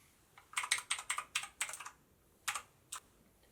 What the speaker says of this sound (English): So the keyboard itself, clearly a mechanical keyboard, very loud, very clacky